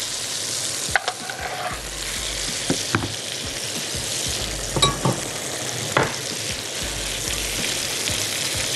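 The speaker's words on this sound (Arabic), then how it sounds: "بجيب الدهون بتاعتي كده وسقسق بيها الستيك كده" A steak fries in a pan while it is basted with hot fat, making a loud, steady sizzle broken by sharp spoon and pan clinks and spattering bursts.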